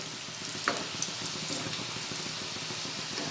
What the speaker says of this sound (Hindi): तेल अच्छे से गर्म हो चुका है और एकदम ज़्यादा लाल भी नहीं करेंगे, सिर्फ गोल्डन होने तक तलेंगे